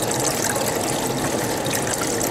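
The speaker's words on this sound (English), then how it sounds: "I've slowed the water flow down now because it's nearly full." Water runs steadily into an RV fresh water tank, making a close, continuous trickling gush with a bright splashing hiss. There is no talking.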